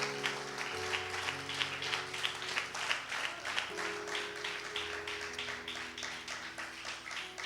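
Church congregation applauding during a sermon, steady dense clapping throughout with sustained musical tones from a keyboard or organ underneath.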